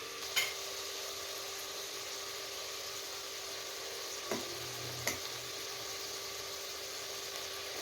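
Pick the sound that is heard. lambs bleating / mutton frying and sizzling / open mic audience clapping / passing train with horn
mutton frying and sizzling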